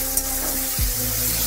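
Diced tomato, potato and turmeric sizzle quietly in a wok, a soft steady frying hiss with a brief low stirring thud partway through.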